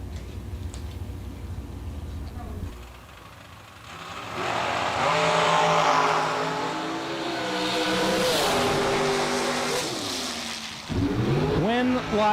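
Drag race cars of Rick Huffman and Bart Nelson launching down the strip, a loud sustained engine roar rising and shifting with revs over about eight seconds, under an announcer's commentary, with a steady idle rumble before and after.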